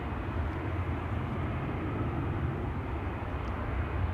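A Sky Express airliner approaching Schiphol Airport gives a steady, broad, continuous jet roar that holds even and fairly loud throughout, with no voices.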